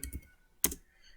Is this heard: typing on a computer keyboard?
yes